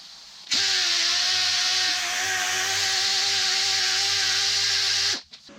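A power sander with 80 grit abrasive grinds across 20-gauge body steel in a loud, steady, high whir that holds for nearly five seconds, then cuts off abruptly. It is close, with no one speaking.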